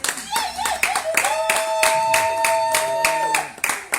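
A church congregation claps steadily in rhythmic bursts, acclaiming God, over sustained singing or keyboard tones that fill the room.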